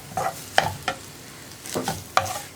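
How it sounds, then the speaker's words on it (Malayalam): Cooked rice and egg being stirred in a pan: five distinct scraping, clattering strokes of a spoon against the pan in an uneven rhythm, close and fairly loud over a faint background. "ചോറ് ചേർത്തിട്ട് നന്നായിട്ടൊന്ന് മിക്സ് ചെയ്യുക."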